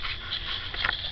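A puppy whimpers softly in brief, high-pitched whines, faint and close, with no talking, outdoors at night near a swamp.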